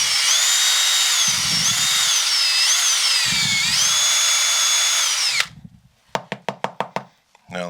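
A power drill whines steadily as it spins a cleaning brush inside a golf shaft, the pitch dipping under load, then stops, followed by a quick series of sharp knocks.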